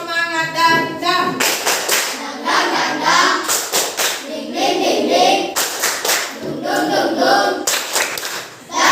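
A classroom of standing students performs the rhythmic 'tepuk semangat' spirit clap, loud patterned hand claps in bursts with chanted voices between them, ending with a short pause.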